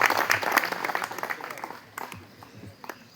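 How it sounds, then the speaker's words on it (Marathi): A crowd applauds dignitaries at a Republic Day celebration held at an open district prison: brisk, dense clapping that peaks early, then thins into a few scattered late claps as it fades. "एकदा या सर्व मान्यवरांसाठी जोरदार टाळ्या."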